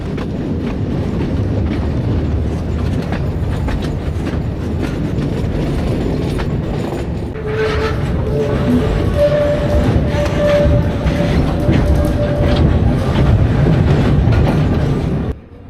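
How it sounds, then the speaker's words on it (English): An old wooden tram rolls from Port Sóller into Sóller town on Mallorca, its steady rumble and rail clatter continuous and close, with rhythmic clickety-clack and a brief squealing tone partway through before the ride cuts off. "From there I took the old wooden tram into Sayer town."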